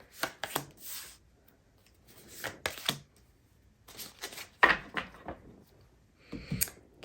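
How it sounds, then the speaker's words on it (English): Tarot cards shuffled and slapped down onto a surface in quick irregular bursts of soft snapping and riffling, close and fairly quiet, with short gaps and no talk. "Get all these cards out here."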